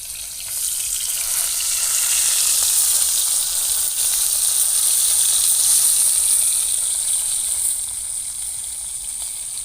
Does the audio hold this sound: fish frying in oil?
yes